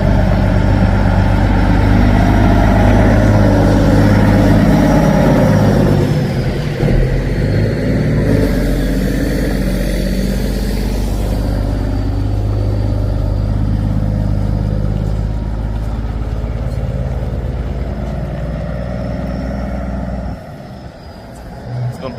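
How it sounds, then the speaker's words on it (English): A heavy mechanical Cummins N14 diesel truck engine idles steadily in the foreground, a deep continuous drone that dips briefly near the end, with a voice speaking over it. "Never get tired of hearing that mechanical N14 on that truck."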